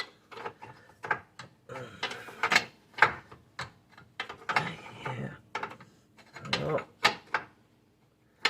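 A ratchet tool tightens the ball joint nut on a BMW front lower control arm, making a long run of close, sharp mechanical clicks in irregular bursts, with some faint talk between them.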